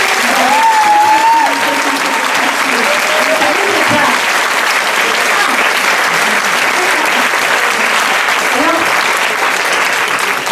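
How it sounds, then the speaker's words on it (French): A theatre audience applauds a burlesque dancer at a live show, a loud, dense and sustained wave of clapping that holds evenly throughout, with a faint voice briefly rising over it near the start. "Alors vraiment applaudissez-la"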